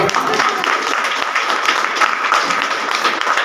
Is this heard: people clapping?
yes